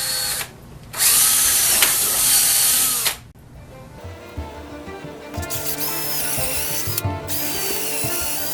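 Power drill bores into a piece of sappy 2x4 wood, with a loud whine from about one to three seconds followed by lower, uneven grinding as the bit works through the wood.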